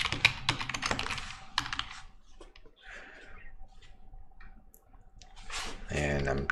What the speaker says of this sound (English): And I'm tired of typing that.